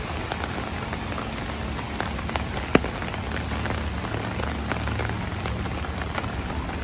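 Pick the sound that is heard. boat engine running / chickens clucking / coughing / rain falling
rain falling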